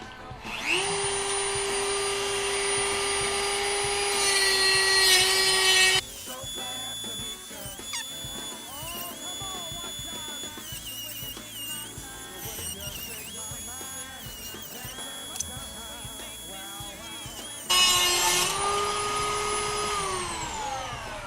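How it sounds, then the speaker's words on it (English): A loud, steady high-pitched whine of a power tool cutting metal rims, starting and stopping twice with a quieter stretch of workshop clatter between the bursts. "now you're gonna see me cutting these rims off and probably drilling the holes"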